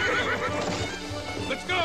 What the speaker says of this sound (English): Hold tight to those horses!